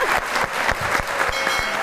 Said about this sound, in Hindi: एक बार मियाँ वाली के लोगों के लिए तालियां होनी चाहिए।